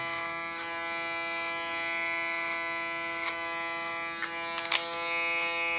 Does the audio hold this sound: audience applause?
no